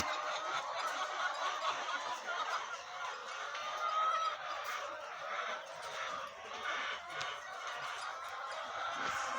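A flock of around a thousand egg-laying hens murmurs and clucks in a constant, fairly soft din on a farm, many overlapping calls blending into one low chatter.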